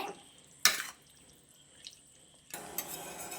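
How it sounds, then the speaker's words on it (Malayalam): Gooseberry pickle being stirred in its liquid, with short wet splashing and clinking bursts near the start and again toward the end, separated by a quieter stretch. "ഗൈസ്, ഞാൻ നിങ്ങളെ ഇളക്കി കാണിക്കാം."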